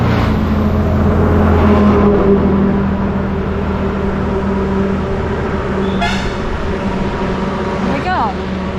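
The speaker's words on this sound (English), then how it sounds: "we've got 3 lorries. On both sides of the road." Road traffic on a rough road in India, several lorries passing on both sides with steady engine rumble and a few sharp horn toots near the end, heard up close and moderately loud while people talk.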